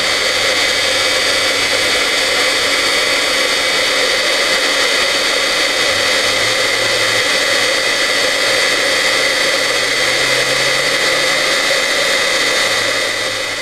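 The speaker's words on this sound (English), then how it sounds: "And then we just heat this with the heat gun." A heat gun blows hot air over embossing powder on a stamped card, giving a loud, steady, even roar that holds unchanged for the whole stretch with no talking.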